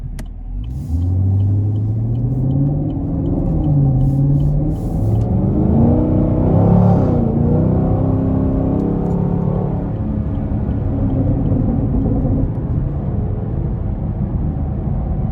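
A 2020 Chevrolet Camaro with the LT1 6.2-liter V8 rumbles loudly and revs up and down in a smooth rising and falling sweep, heard close from inside the car.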